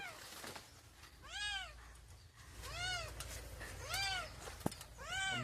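A cat meows four times in a slow, even rhythm, each call a clear rising-and-falling wail close by, with faint background noise in the gaps.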